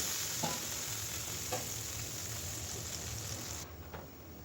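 Onion and chili frying with garlic and ginger paste and a large tomato added, a steady close sizzle of a vegetarian home cooking pan, with a couple of soft stirring knocks and the hiss easing near the end.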